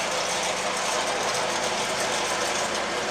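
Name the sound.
pelleting machine of a home fish feed mill running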